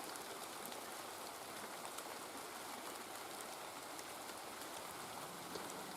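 Steady rain falls on a vegetable garden at a summer cottage with tomato plants, a dense, even hiss of drops hitting leaves and surfaces throughout, close and continuous with no talking.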